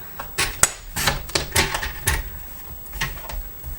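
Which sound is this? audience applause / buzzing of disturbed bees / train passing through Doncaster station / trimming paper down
trimming paper down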